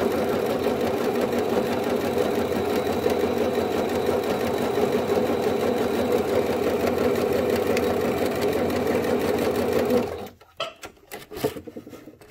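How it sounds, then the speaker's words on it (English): A sewing machine runs steadily for about ten seconds, stitching the bottom seam of a homemade N95-style fabric mask, then stops and leaves a few fabric-handling clicks. "now to sew the bottom"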